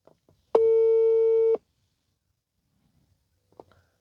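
A single steady telephone tone sounds for about a second from a call that goes unanswered, with faint clicks and brief quiet sounds around it.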